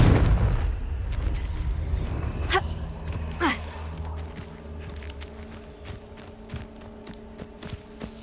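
An explosive spell in the Hogwarts Legacy video game bursts with a heavy boom at the start, rumbling away, followed by sharp magical zips and scattered clicks and taps that fade to quieter ambience.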